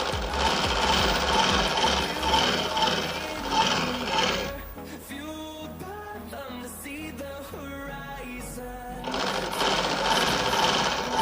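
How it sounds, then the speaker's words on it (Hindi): A sewing machine stitches the panels of a four-panel petticoat in a fast, rattling burst. It pauses briefly while other quieter sounds fill the gap, then runs again near the end. "फिर उसी तरीके से पूरी सिलाई कर दीजिए।"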